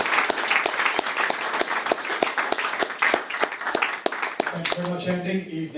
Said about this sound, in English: we're going to give him a round of applause